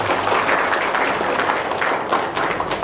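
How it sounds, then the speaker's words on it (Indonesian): Audience applause at a rally of young pesantren clerics in Kebumen declaring support for a presidential ticket, a steady dense clatter of many hands that holds at even loudness for the whole stretch. "Tepuk tangan."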